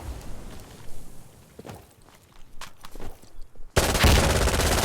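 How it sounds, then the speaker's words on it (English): Gunfire in an esports video game match from the ICL Summer Cup, Enemy West vs TG. A few scattered shots and footsteps lead into a sudden, loud, sustained burst of rapid fire that keeps going to the end of the clip. There is no talk. "There's the free fire. Wow, a lot of rounds from Radish."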